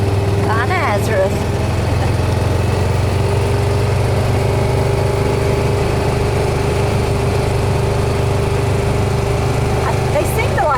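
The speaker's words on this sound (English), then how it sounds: "That's where I mowed that bank. Yeah. Lawnmower." A lawn mower engine drones steadily at close range for the whole stretch, a constant low rumble with faint chirps of birds at the edges.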